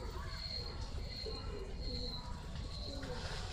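Kabuli pigeons coo softly and steadily beneath a constant background hum, with faint chirps mixed in and no speech.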